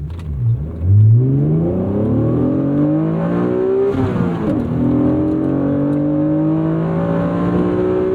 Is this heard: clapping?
no